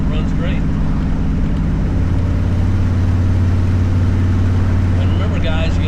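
A 1963 Ford Falcon driving on a road, a loud continuous low engine drone and road rumble with wind buffeting, the pitch settling and steadying partway through.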